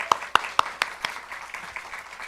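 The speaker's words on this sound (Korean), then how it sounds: "뜨거운 박수로 맞이해 주시기 바랍니다." A church congregation gives a few sharp, separate claps that quickly thin out and fade within two seconds.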